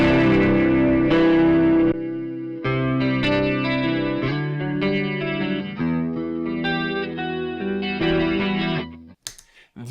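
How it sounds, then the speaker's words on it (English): Electric guitar through a chorus pedal plays a series of ringing chords and held notes, shimmering and loud, with brief pauses between phrases and a quick burst at the end. "Then I have a chorus pedal here."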